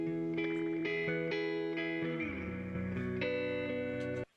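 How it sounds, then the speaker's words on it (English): Electric guitar chords ring out through a spring reverb, with a few sustained strums and slight distortion, each chord washing into a reverberant tail before cutting off sharply at the end. "Little spring reverb on there."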